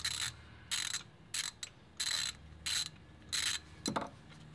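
A ratchet socket wrench clicks in short, quick bursts while loosening car engine spark plugs, about eight separate ratcheting runs with brief pauses between them, close and clear, with a light knock near the end.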